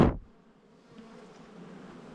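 Honey bees buzzing around an opened hive as a frame is lifted out, a faint, continuous low hum that follows a brief sharp knock at the start.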